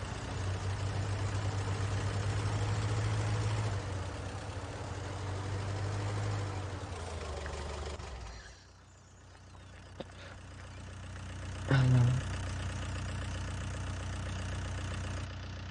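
A tractor engine idles steadily in a farming simulator game, a low continuous hum that drops away partway through before returning, with a brief thump near the end.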